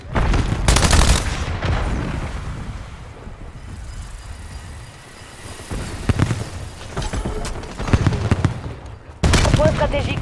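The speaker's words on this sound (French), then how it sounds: "j'utilise le canon à main" Bursts of loud hand cannon gunfire in Call of Duty: Black Ops 7 crack out in several separate volleys, with quieter rumbling between shots.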